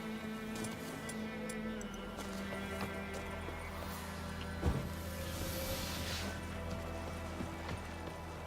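Hooves clip-clop steadily under a dense, low background mix in The Witcher 3: Wild Hunt, with a brief thump midway; the horse sounds are faint and rhythmic.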